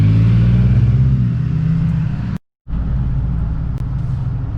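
A Jeep's V6 engine rumbles and revs loudly up close, the steady growl cut by a brief silent gap before resuming.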